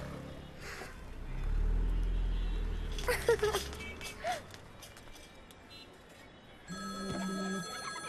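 A phone ringtone sounds near the end, a steady electronic tone following a passing vehicle rumble and a few brief noises.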